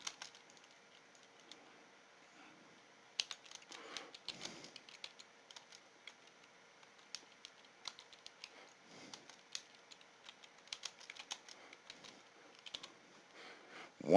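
Quiet keyboard typing in a training-software setup, with scattered soft key clicks in irregular bursts from about three seconds onward over a faint steady background, no voices.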